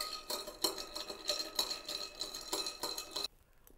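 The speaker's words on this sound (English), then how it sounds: "let's stir this down" A Drambuie cocktail stirred down in a mixing glass, with rapid, repeated light clinks and tinkles of a spoon and ice, close and fairly quiet, stopping abruptly near the end with no talking.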